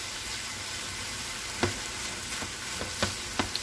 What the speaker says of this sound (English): It is a quick stir fry.